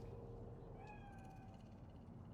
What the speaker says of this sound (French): Un chat. Tu le vois?